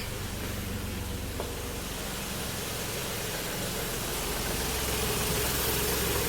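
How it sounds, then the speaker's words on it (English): A Lexus IS300 with a misfire idles steadily after a spark plug and wire change, a constant close engine drone with a broad hiss and no talk. "I'm going to try and take it for a drive after I let it sit here and idle for a bit"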